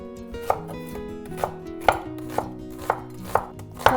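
A knife chops through an onion on a cutting board, about seven sharp, evenly spaced thuds close up, over a steady background hum, with no talking.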